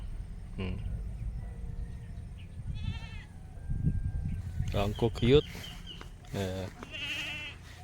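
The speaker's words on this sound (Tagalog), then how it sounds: "Gaganda ng anak nung kambing" Young goats bleat several times, high wavering cries close by, some overlapping, with a person briefly speaking softly in between.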